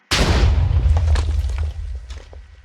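A fire sword in a Minecraft weapon mod sets off a fireball explosion: one sudden loud boom with a deep rumbling body that fades over about two seconds, heard alone without talk.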